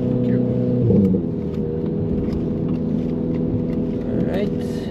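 A VW Golf 7 GTI pulling onto the Nürburgring track on a wet, cold day, its engine a steady loud droning hum from inside the cabin, with a slight rise in revs near the start.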